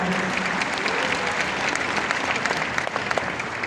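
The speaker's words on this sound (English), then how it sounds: "give him a round of applause right here." Audience at a talk applauding steadily, a dense wash of many hands clapping that holds for several seconds without speech.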